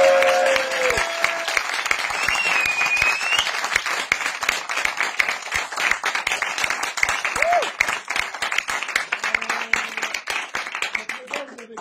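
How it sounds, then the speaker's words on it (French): An audience at an improvised interview event in Lyon bursts into loud applause for the winners, a dense crackle of clapping that thins and grows more scattered toward the end, with a few voices calling out over it. "Un tonnerre d'applaudissements pour les gagnants."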